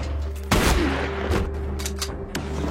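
Gunfire in a horror film, with a loud burst of shots followed by several more scattered blasts, all set against a droning, tense film soundtrack.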